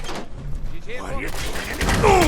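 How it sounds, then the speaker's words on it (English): Gunfire from a shooter game, Fallout 4, played in a modded playthrough: a few bursts of shots and impacts mixed with music and sound effects, with a character's voice talking over part of it. "Opening fire."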